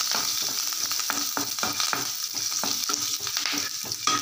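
Ginger, garlic and curry leaves sizzle steadily in hot oil, a dense continuous frying hiss with frequent soft stirring scrapes and clicks close by, no voices.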